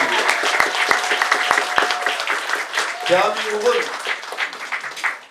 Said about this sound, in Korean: 이 모든 분들에게 응원의 박수를